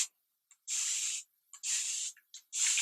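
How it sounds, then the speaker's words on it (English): A fine-mist spray bottle of water is squirted onto hair in three sharp, hissing bursts, each lasting about half a second and separated by short pauses with faint trigger clicks. "So I'm just going to take my spray bottle"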